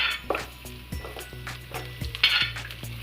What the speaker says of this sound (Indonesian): Panaskan minyak, masukkan bawang merah dan bawang putih